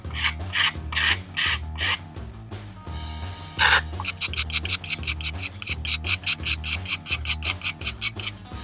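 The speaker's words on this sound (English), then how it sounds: "You could use the side of a chisel. You can use pretty much anything, just has a straight edge on it. Just scrape that off." Straight-edged blade scraping the coating off a vintage brass hammer handle, a run of close, rhythmic rasping strokes that start slow and then come quick and even.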